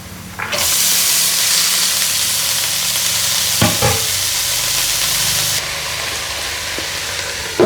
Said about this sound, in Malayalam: മൂത്ത് കഴിയുമ്പോൾ ചീര വറുക്കിടാം.